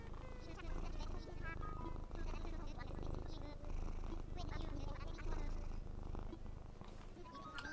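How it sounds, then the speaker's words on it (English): A cat purrs loudly, steadily and close, a low rumbling drone that continues throughout, with a person's voice occasionally heard over it. "Let the internet hear how loud you purr."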